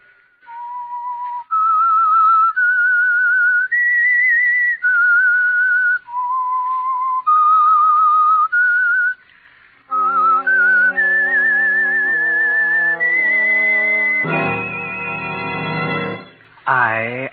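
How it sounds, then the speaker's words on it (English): A lone whistler carries a slow, eerie theme tune for a mystery radio drama, clear sustained notes stepping up and down, then an orchestra swells in with full brassy chords and a rising flourish. "That whistle."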